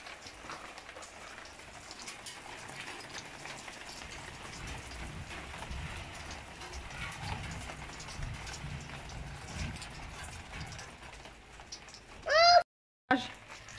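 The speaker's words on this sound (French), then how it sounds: "Et là il pleut." Rain falling outside a house, a soft steady patter with faint scattered drops, followed near the end by a brief loud handling noise.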